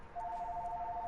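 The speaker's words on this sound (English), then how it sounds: "Sorry if y'all can hear that phone in the background." A telephone rings in the background of a room during a Madden-style football game commentary, a steady repeating electronic tone running faint but continuous through the short stretch.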